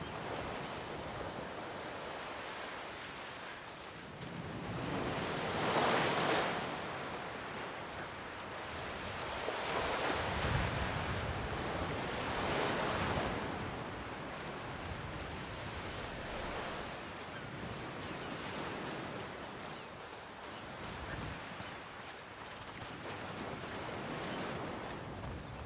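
Sea waves in A Plague Tale: Requiem roll in and recede in slow, broad swells of surf, rising and falling every several seconds under a constant wind-like wash, fairly soft and with no voices.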